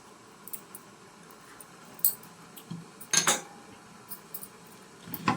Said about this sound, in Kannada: ಚೆನ್ನಾಗಿ ಮಿಕ್ಸ್ ಮಾಡಿ ಚೆನ್ನಾಗಿ ಕುದಿಬೇಕಿದು.